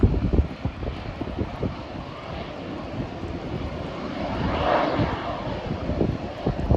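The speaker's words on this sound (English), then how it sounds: "Here's a Plane Sense flight that just arrived from Glens Falls" A Plane Sense aircraft arrives at Burlington International Airport in Vermont, its engine a steady, moderately loud drone that swells slightly as it passes, with wind gusting against the microphone.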